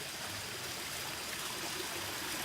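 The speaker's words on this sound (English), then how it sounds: "waterfall" A small garden waterfall spilling into a koi pond gives a steady, soft, continuous rush of water, faint and even throughout.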